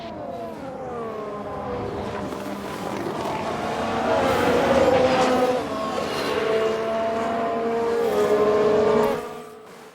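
Locked-up tyre skid during a 1991 Benetton-era race in F1 Manager 22, layered over a steady roar of racing engines with rising and falling pitch, fairly loud throughout and fading at the very end.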